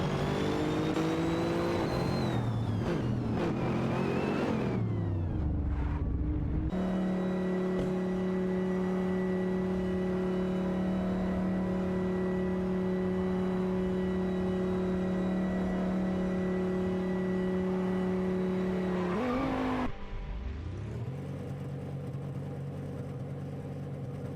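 Several racing cars in a racing video game whine past one another with steady, high-pitched engine tones, shifting pitch as they overtake, with brief gaps between passes and no voices.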